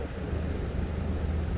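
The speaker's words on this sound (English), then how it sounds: "We're near a military base and there's a helicopter flying over" A military helicopter passes overhead near a base, a steady broad roar with low rumble and a faint whine, continuous and fairly loud throughout, with no talking.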